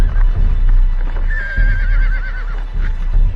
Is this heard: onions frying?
no